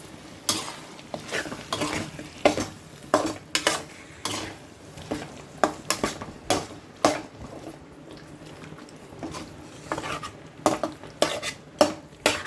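A spoon scrapes and knocks against a pan at a steady pace while chicken sautés with tomato for Chettinad thokku, the sharp clatter of stirring over a soft, continuous sizzle.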